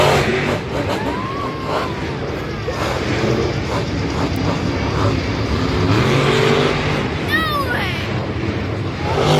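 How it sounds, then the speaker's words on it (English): The Lucas Oil Crusader monster truck roaring and revving through a stadium freestyle run, loud and sustained with a rising rev near the end, under a crowd and announcer speaking. "The third truck out in this freestyle competition is Lindsey Wink and the Lucas Oil Crusader."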